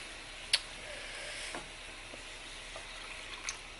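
Nepali food cooking in a pan, a soft, steady sizzle close by, with occasional small pops and ticks and no talk.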